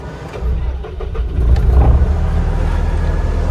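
An ASV/Terex skid steer engine cranks and fires up, then settles into a loud, steady, close-up diesel rumble with a brief rev partway through.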